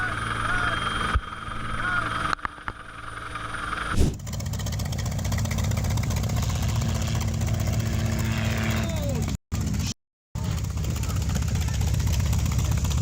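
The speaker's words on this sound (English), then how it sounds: "an EMQ rescue helicopter saves 4 people" An EMQ rescue helicopter flies during an Australian sea rescue after a boat capsize, its rotor thumping in a loud, steady rumbling drone with wind buffeting and a couple of brief dropouts.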